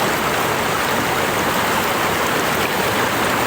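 A small river rapid, a little waterfall, rushes in a loud, steady wash of water. The noise is close and unbroken.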